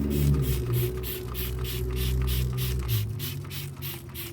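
Super Clean degreaser sprayed from a trigger bottle onto a car engine in a run of quick rhythmic bursts, each a short close hiss over a low steady hum.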